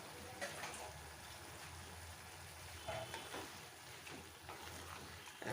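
Mutton chilli fry sizzling in a pan, a steady close crackle and hiss running the whole time with faint stirring scrapes and a low background hum.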